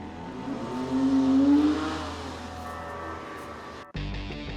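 A £95,000 car pulls away, its engine revving up loud and close for a couple of seconds, then the note fades into a steady hum as it drives off, ending in an abrupt cut.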